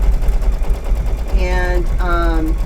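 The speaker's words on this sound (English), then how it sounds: "so the next thing that it's going to stitch out is the moth body" An embroidery machine stitches out a moth body for a Kimberbell spring garden flag, its rapid needle chatter running as a steady mechanical rumble while someone talks over it.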